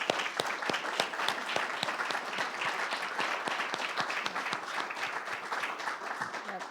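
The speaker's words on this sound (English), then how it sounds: "let's just give Ricky another round of applause" A church congregation claps for a guest speaker in a steady round of applause. Individual claps stand out clearly and continue evenly throughout, with little talk.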